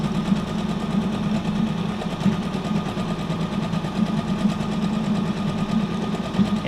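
A sewing machine runs steadily, stitching fabric material for a junk journal cover, giving a continuous close, even mechanical whir with a fast rapid tick throughout.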